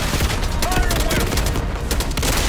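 Dense, rapid gunfire in a video game mission assaulting a palace gate, a continuous loud fusillade of overlapping shots and booms with a brief shouted voice nearby.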